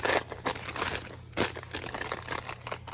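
A paper bag being crumpled by hand, sharp close crinkles and rustles in quick irregular bursts, with one louder crunch partway through.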